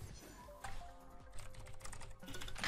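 Rapid, uneven clicking of keys on a computer keyboard during a video game session, close and fairly quiet, with bursts of keystrokes and a louder clatter at the end.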